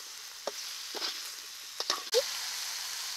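Katla fish head with salt and turmeric frying in a pan, a soft steady sizzle with a few scraping stirs and clinks, close and fairly quiet, no voices.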